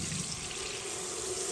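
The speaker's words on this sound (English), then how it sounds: "run it under cold water" Cold tap water runs steadily over freshly cooked shrimp in a kitchen sink, a continuous close hiss and splash with no break.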